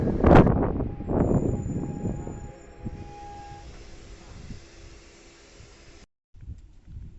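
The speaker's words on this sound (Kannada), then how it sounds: "ಈಗ ರೈಲ್ವೆ ಸ್ಟೇಷನ್ಗೆ ಬಂದು ತಲುಪಿದ್ದೀವಿ." Ambience at a railway station just reached by train: a loud, heavy rail rumble opens, then fades into a steady mechanical hum with a faint tonal whine, before cutting briefly to near silence.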